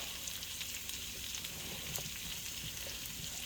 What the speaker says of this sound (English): There's a couple of cups of sliced onion. I'm going to get them cooked up.